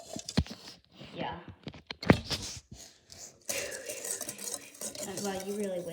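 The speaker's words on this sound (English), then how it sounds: "So grab 1 whisk. And you whisk this for 2 minutes." A whisk scrapes and clinks against a bowl as a mixture for worms in dirt dessert is stirred, close and rhythmic after a stretch of scattered utensil taps, while someone talks over it.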